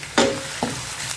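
Onions drop into hot red oil and start frying, giving two short bursts of sizzling followed by a faint, steady crackle, close up with no talking.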